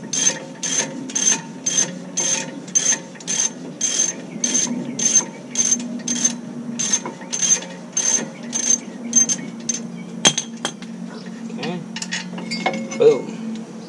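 A ratchet wrench loosens the brake bracket bolts on a GMC Acadia in a driveway, producing a steady run of close, sharp clicking strokes in regular rhythm, then a few scattered clanks and metal knocks.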